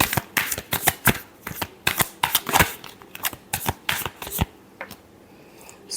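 Tarot cards are shuffled by hand in a quick run of crisp, riffling snaps that come close together, then thin out and fade to quiet near the end.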